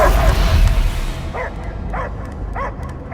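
A dog in the video game Marvel's Guardians of the Galaxy gives three short, close, distinct barks at an even pace after a burst of louder action noise.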